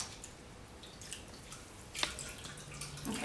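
Hair extensions are dipped and rinsed in water, giving soft drips and splashes over a low running-water hiss, with one sharper splash near the middle; quiet and close, no voices.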